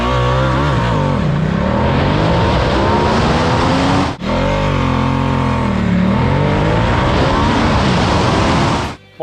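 Ducati Diavel 1260 S motorcycle engine revving hard through rising, sweeping harmonics, loud and close, with a brief dip around the middle before pulling strongly again.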